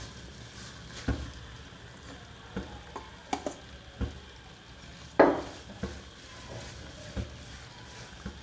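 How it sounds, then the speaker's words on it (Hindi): A spoon stirs sugar into halwa in a pan, scraping and knocking against the metal in irregular strokes with soft sizzling between, close and moderately loud, with no talk. "अब हम इसको इसके अंदर मिक्स करेंगे खूब अच्छी तरीके से, ताकि चीनी अपना पानी छोड़ेगी।"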